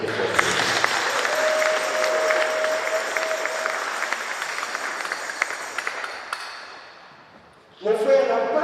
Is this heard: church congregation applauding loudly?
yes